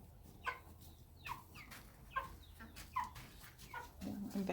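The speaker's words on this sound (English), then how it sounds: "I think that turkey wanted the chickens out there." Several chickens cluck in short separate bursts, fairly close and moderately loud over a quiet outdoor background, with a brief louder squawk near the end.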